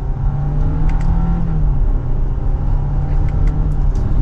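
A 2025 Audi Q7 45 Quattro in dynamic mode accelerating in second gear, heard from inside as a loud, steady engine drone with low road rumble that holds throughout.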